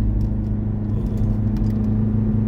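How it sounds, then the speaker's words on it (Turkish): A Chevrolet Captiva SUV engine with a hybrid turbo hums and rumbles steadily under load while driving uphill, a low continuous drone with faint rattles from inside the cabin. "Motorun çalışması bile değişmiş."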